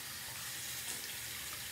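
Steady, continuous rush of water running from a tap into a sink, loud and close with no pauses, alone without talk.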